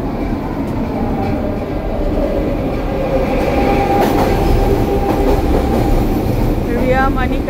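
A Vancouver SkyTrain passes close by, a loud steady rumble of rail cars with rhythmic wheel clatter and brief high squeals toward the end, continuous throughout.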